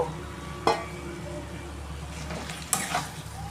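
Fried potatoes and spices sizzle softly as they are stirred in a pan for jackfruit curry, with a steady low frying hiss and two louder scrapes of the utensil against the pan.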